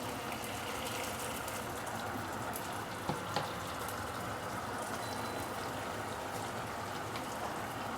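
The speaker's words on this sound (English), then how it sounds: "we can actually put in some water." A steady, continuous stream of water pours and splashes into a pan while making sweet and sour fish sauce, without a break for the whole stretch, fairly close, with no talking.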